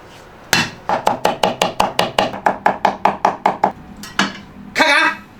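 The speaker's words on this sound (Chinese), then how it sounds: "剁点姜蒜哈，" A cleaver chops smashed ginger and garlic on a board in a home kitchen: about fifteen sharp, evenly spaced thwacks in quick rhythm, then a brief pause and a couple of final scraping strikes, loud and close.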